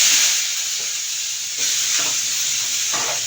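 Onions sautéing in hot oil with cumin seeds, a bright continuous sizzle with several soft stirring scrapes, close up and loud throughout, no voices.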